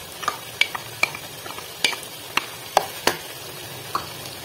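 Chicken karahi frying with tomato puree in a pan, a soft steady sizzle broken by several sharp stirring scrapes and clicks, close and fairly quiet with no talk.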